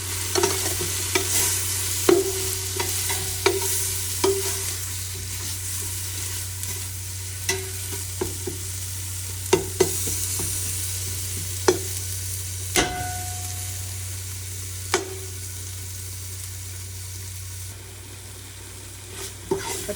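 Tomato and chili powder sizzle in a pan for a crab curry, a soft steady fry broken by repeated sharp clacks of a spoon stirring against the pot, close up with no talking.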